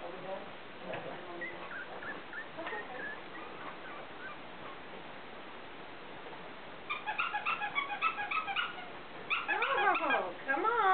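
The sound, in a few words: puppies whimpering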